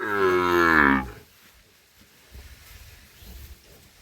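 A Gir breed heifer calf gives one loud, close moo lasting about a second, followed by quieter low rustling and shuffling from the animal's surroundings.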